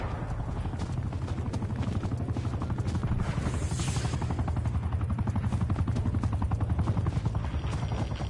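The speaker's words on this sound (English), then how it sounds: "Sit rep, enemy attack helo above." Attack helicopter in the multiplayer shooter Call of Duty: Black Ops Cold War, a loud steady rotor drone overhead mixed with dense bursts of machine-gun and other gunfire throughout.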